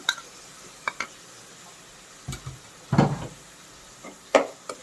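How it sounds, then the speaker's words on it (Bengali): Ground spices with cumin paste, chili, turmeric and coriander being sautéed in a pan for a rui fish curry with bottle gourd, with a faint sizzle broken by a few sharp spatula scrapes and knocks. "এখন মশলাটা খুব ভালোভাবে কষাবো"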